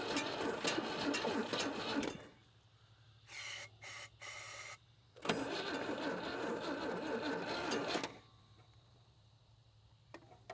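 A Tri-Five Chevy, sitting unused for 36 years and dosed with starting fluid, cranks steadily in two long bursts separated by a quiet gap, with a few short chugging pulses between them; the engine turns over without catching.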